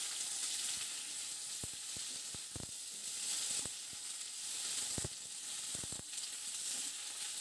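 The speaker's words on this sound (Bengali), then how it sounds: "শিম দেওয়ার পর একটু ভালো করে ভেজে নিতে হবে" Flat beans sizzle steadily in hot oil tempered with black cumin and dried chili for a poppy-seed bean dish, a close, continuous frying hiss broken by sharp clicks and scrapes of stirring.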